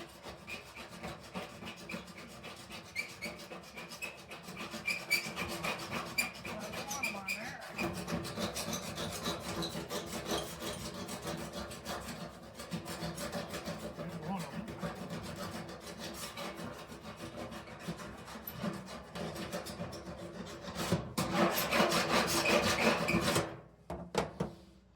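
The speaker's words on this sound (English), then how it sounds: "Sand that out of there." Sanding a mailbox during a repair: a steady, close rasping rub of sandpaper runs continuously, growing slightly louder and harsher near the end before stopping.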